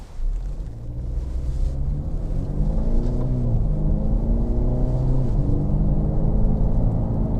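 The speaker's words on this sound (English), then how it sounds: "I'm going to get the car up to about 50 miles an hour" A car accelerates on an open road, its engine note climbing steadily in pitch with rising harmonics as speed builds toward about 50 mph, a continuous close, loud drone with no talk.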